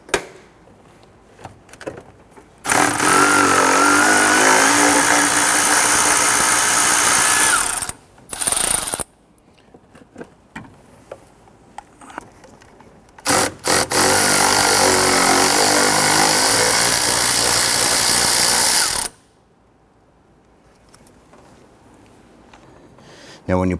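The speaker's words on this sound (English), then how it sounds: "I'm going to go ahead and remove the two nuts on the booster." Two nuts come off the brake booster of a 2006-2014 Honda Ridgeline with a power tool: two long, loud, steady whirring bursts with quieter mechanical clicks between and around them.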